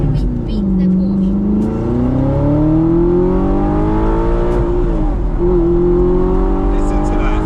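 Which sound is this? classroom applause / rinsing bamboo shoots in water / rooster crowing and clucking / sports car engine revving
sports car engine revving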